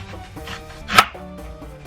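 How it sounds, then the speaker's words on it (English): Knife chopping onions on a cutting board while making shakshuka, a few separate cuts with one sharp louder chop in the middle, close and clear with no talking. "Okay, so you want to cut up your onions."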